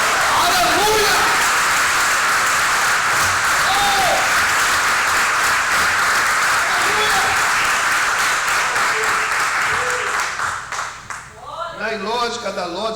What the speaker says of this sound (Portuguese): Você pode aplaudir e glorificar?